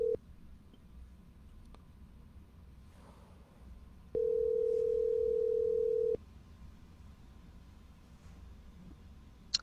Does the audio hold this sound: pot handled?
no